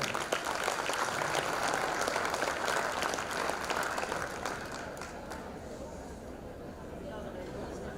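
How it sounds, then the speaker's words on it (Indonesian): A seminar audience gives a man a warm round of applause, dense clapping that fills the room loudly at first and then thins and fades over several seconds. "Beri aplaus dong buat bapaknya."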